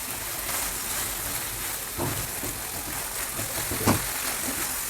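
Dalda ghee sizzles in a pan with a melted sugar mixture while Khushab dhodha sweet is cooked. The sizzle is a faint, steady crackle with a few sharper pops and no talk.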